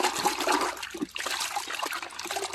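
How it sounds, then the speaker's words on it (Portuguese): Dirty, soapy cleaning cloth squeezed over a bucket, water streaming and trickling down in a continuous close splashing pour, with no talk. "De novo, aperto ele aqui até sair toda aquela sujeira que estava no pano."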